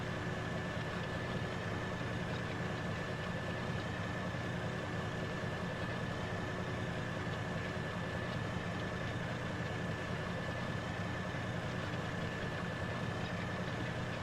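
John Deere tractor engine idling in Farming Simulator 15, a steady continuous low rumble with a faint whine, unchanging throughout and with no talking over it.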